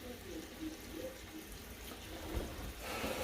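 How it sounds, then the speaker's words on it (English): Tap water runs steadily into a kitchen sink while a dish is washed during noodle stew cooking, a continuous low splashing hiss with a brief louder knock partway through. "I'm gonna be responsible and I'm gonna wash a dish real quick"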